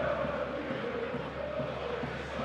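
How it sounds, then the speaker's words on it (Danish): A football stadium crowd at an FCM versus FCK match produces a steady, dense roar with a broad chanting murmur that holds at an even level throughout. "Vi kan jo høre publikum, de er med, de lever sig med"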